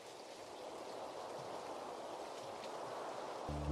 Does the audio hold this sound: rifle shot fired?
no